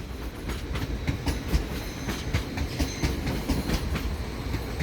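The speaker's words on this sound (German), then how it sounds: "Ausfahrt RE3 nach Passau über Landshut und Moosburg." An RE3 regional train to Passau via Landshut and Moosburg pulls out of München Hauptbahnhof. Wheels clatter in a steady rhythm of clicks over rail joints beneath a continuous rolling rumble, close and fairly loud, with no voices.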